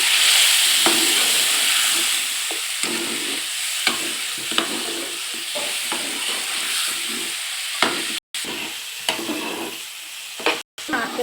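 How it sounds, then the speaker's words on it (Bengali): Spices for a chicken curry with coriander, ground coriander and cumin among them, sizzle and fry in a pan with a steady loud hiss, while a spoon scrapes and stirs in irregular strokes close by. "নাড়তে থাকবো একে, কেননা একটু না কষলে মশলার গন্ধ বেরোবে"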